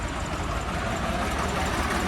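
A tractor engine runs at the Moga tractor market in Punjab, giving a close, steady, low idling rumble throughout a short stretch with no talk.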